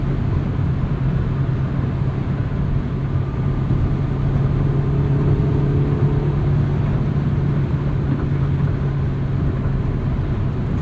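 A 1999 Honda Civic Si engine drones loudly from inside the cabin while driving, a steady deep hum and road roar with no clear rise in pitch across the stretch.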